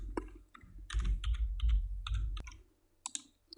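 Keys tapped on a computer keyboard while editing in DaVinci Resolve, with the F2 key pressed among them: a close run of irregular clicks, with a few sharper isolated taps near the end and no talking.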